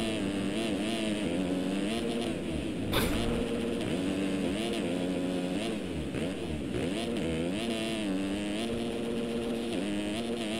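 250cc motocross bikes racing at Washougal, engines revving and wavering continuously with rising and falling pitch as they work through a section, a dense, steady roar throughout with a brief sharp crack near the start.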